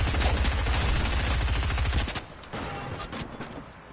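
Fast automatic gunfire in a Fortnite match, a loud rapid stream of shots for about two seconds, then quieter scattered distant firing, with no talking.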